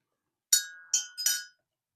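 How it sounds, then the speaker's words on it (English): Glass ink bottles clink against each other three times in quick succession, sharp bright ringing taps up close in an otherwise quiet room. "Oh, now that's going to be noisy. I apologize in advance. That's glass on glass."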